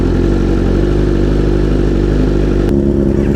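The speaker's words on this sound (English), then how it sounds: "His bike sounds good with the Austin Racing." A motorcycle fitted with an Austin Racing exhaust rumbles steadily at close range, a deep, even engine drone that shifts to a rougher, lower note near the end.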